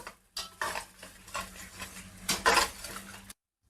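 Brown onion and cashew paste frying in a pan for a mixed vegetable curry, stirred with a utensil that scrapes and clinks against the metal over a light sizzle, in a few close bursts before stopping abruptly.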